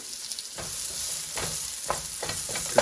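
Green beans frying in oil in a pan, a steady close sizzle with intermittent crackles and the scrape of stirring, loud and continuous with no talk.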